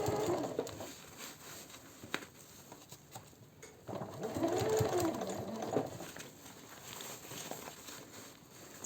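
A sewing machine stitches a denim sports bag in short uneven runs, whirring and pattering close by with pauses between bursts.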